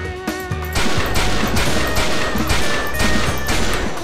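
Loud, rapid gunfire from a game of XIII at a secret military base, with bursts of shots hammering out in quick succession almost without pause. No talking.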